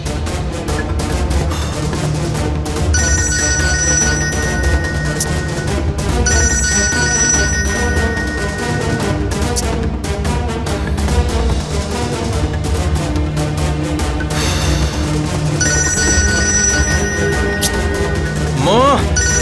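A telephone rings while a call is placed to a mother, its melodic ringtone pattern repeating every few seconds, loud and close over a dense background.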